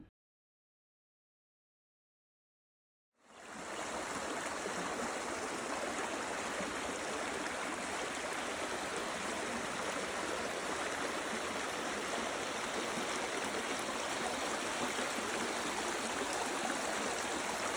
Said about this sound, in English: Here is the junction of Yallabelly Creek, which flows into the Duckmalloy River.